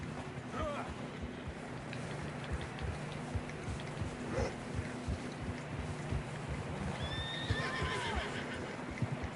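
A horse in Red Dead Redemption 2 whinnies several times in a snowy, windy landscape, with steady hoof clip-clops underneath and some quiet voices nearby.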